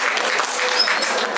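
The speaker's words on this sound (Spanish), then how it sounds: "un aplauso para él" Brief burst of audience applause at a political event, dense even clapping heard alone for about a second.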